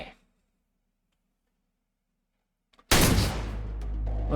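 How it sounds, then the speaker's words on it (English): A gunshot in a video game: after near silence, a sudden loud, sharp burst erupts and keeps ringing with a dense, noisy tail to the end. "Oh, is that a gunshot?"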